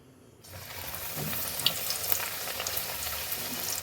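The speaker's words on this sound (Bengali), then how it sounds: "কড়াইতে তেল দিয়ে দিয়েছি তেলটা অলরেডি গরম হয়ে গেছে এবার কচুরিগুলি ছাড়িয়ে গিয়েছে" Kachuri fry in hot oil in a wok, a steady close sizzle with fine crackling bubbles that starts abruptly after a brief quiet moment and continues evenly.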